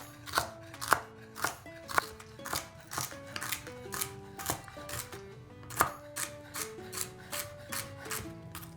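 Knife finely chopping split celery on a cutting board, a steady series of crisp, evenly spaced crunchy chops close up, with no talking.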